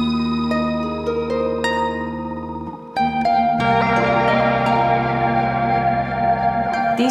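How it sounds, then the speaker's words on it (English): A harp played through modular synth effects, mostly a Clouds granular module, with sustained plucked tones that swell into a dense, shimmering processed wash, with no voices. "Secondly, the full harp is being processed through effects."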